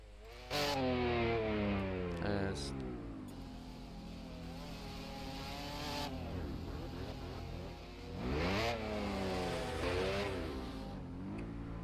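A racing car engine in a video game revs repeatedly while stuck in a gravel trap at Assen, rising and falling in pitch with several loud surges over a steady drone.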